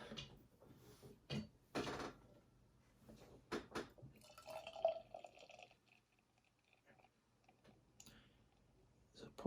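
A 7.2% coffee porter beer can or bottle cracks open with sharp clicks, then pours into a glass with a gurgling liquid rush and fizz, close and fairly quiet.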